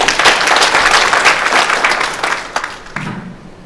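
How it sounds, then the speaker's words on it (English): Loud conference audience applause at an annual national event, a dense burst of many hands clapping that tapers off and ends, followed by a brief low murmur. "Let's give a big round of applause."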